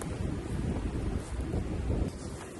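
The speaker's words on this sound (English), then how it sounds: "we need to get out of the wind a little bit" Wind blowing outdoors, a steady low buffeting rumble against the microphone with rustling wash, no talk.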